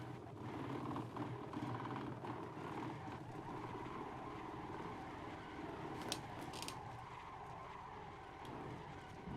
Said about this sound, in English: That noise you can hear from my microphone is my wheel freaking out